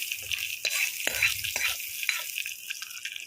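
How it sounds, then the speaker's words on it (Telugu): Spices for a Telugu chili dal tempering crackle and sizzle in hot oil, a close, bright fry with scattered sharp pops and clicks. "ఇప్పుడు పోపు పెట్టినా కదా"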